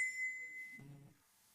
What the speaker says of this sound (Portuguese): mas é melhor no sino. Aqui está o sino